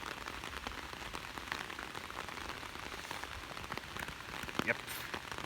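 Heavy rain pours down outdoors, a dense steady patter of drops hitting surfaces nearby with a few louder splats, fairly faint overall and without talking.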